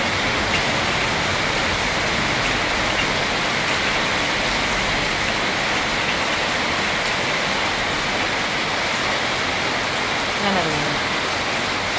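Steady heavy rain pouring down outside a home, a dense continuous hiss with no breaks, loud and close throughout.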